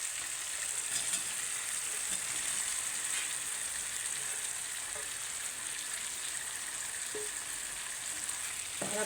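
Boiled, chopped potatoes sauté in hot oil with spices for a potato-and-pea curry, giving a steady close sizzle with faint clicks of stirring throughout and no speech.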